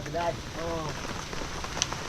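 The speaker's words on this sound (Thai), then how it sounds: "เพราะว่าฝนยังบ่หยุดบ่เซาเลย" Steady rain patters across a surface in a continuous broadband hiss, with a faint voice murmuring underneath for a moment.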